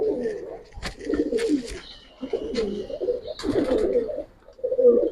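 Giribaz pigeons of an old breed cooing in a loft, with repeated soft, low coos arriving in bursts close by, and a few short higher chirps mixed in.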